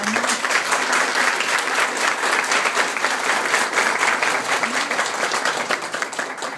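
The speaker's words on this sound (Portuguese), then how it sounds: "Peço uma salva de palmas." Steady, dense applause from an audience at a talk on setting limits, sustained and fairly loud throughout, easing slightly near the end.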